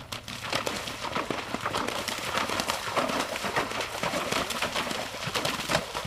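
Hoofbeats of a horse ridden cross-country, a steady run of thuds and clops close by over constant outdoor background noise, with no voices heard.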